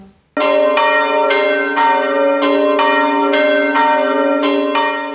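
Church bells in Mukachevo, Ukraine, toll loudly and repeatedly for a fallen soldier after a brief silence, each strike ringing out and overlapping the last in a slow, steady rhythm.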